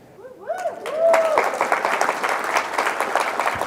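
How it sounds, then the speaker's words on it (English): Applause from the audience at a fall university convocation, rising after a brief spoken phrase and continuing as a dense, sustained clatter of many hands. "I love the applause"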